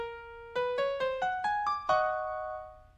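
A SCAMP Python script plays a short synthesized phrase: a quarter note, a quick run of triplet notes stepping upward, then a held half-note chord that rings out and fades, all clean and alone.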